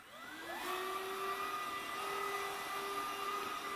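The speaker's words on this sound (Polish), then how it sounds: "włączamy funkcję odkurzania" A Philipiak Milano 3-in-1 vacuum cleaner motor starts up and whines steadily at a constant pitch, running close by on carpet with a broad airy hum; no talking.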